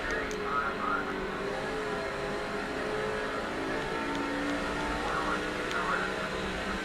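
Stock cars race around the Richmond oval in NASCAR 06, with a steady engine drone and cars passing throughout, mixed under a commentator's voice.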